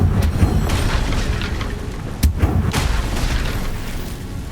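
Spell explosions in the Hogwarts Legacy video game: loud booming blasts with a sharp crack near the middle, over a dense rumbling game soundscape.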